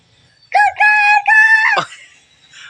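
A loud rooster crows once, a drawn-out cock-a-doodle-doo in three rising segments, close and clear against quiet surroundings.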